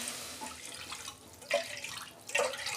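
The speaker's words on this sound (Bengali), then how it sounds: "আমি ওই কড়াতেই জল দিচ্ছি" Water pours from a tap or jug into a wok, splashing in short bursts with softer flowing between them. It is heard up close and without talk. The water is for a fried semolina pitha.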